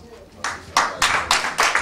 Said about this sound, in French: On applaudit très fort pour Maître Wilpa Mundeke